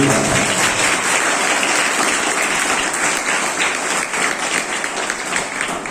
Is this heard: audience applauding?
yes